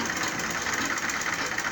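A sewing machine runs steadily while stitching the front bustier panel of an off-shoulder gown, its fast even motor drone close and continuous with no talking.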